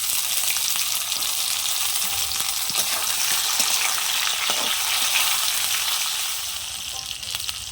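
Potatoes and chopped tomatoes fry in a pan for a green banana kofta curry, giving a steady, loud, close sizzle with a few scrapes of stirring throughout.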